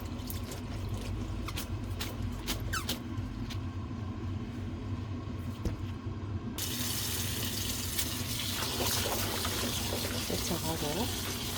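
Garlic scapes are washed under a running kitchen tap, with steady water rushing and splashing continuously, louder and brighter in the second half, over a background of road traffic noise.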